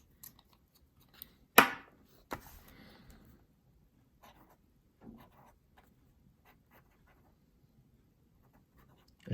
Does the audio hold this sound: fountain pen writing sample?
yes